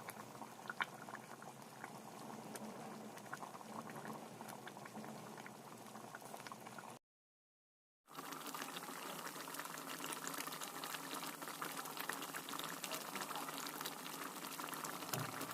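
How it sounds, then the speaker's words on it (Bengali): Chicken curry masala with tomato bubbles at a steady boil after water is added, a close, continuous popping patter that cuts out for about a second and then resumes just as busily. "মশলা খুব ভালো মতো একসাথে ফুটে আসলে এবার দিয়ে দিতে হবে জল"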